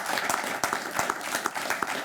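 Loud applause rolls through a crowd at a graduation parade, a dense, steady wash of many hands clapping with a few sharper individual claps standing out.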